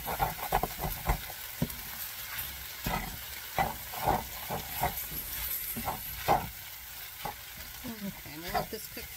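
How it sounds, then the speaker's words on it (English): Ham hash and hashbrowns frying in a pan while being stirred, with a steady sizzle under repeated scraping and stirring strokes, close and fairly quiet, with no talking. "I'm going to stir this up."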